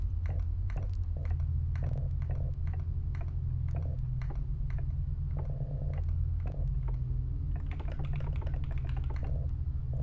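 Rapid keyboard typing with crisp, irregular key clicks that come in bursts, close up, over a constant low electrical hum.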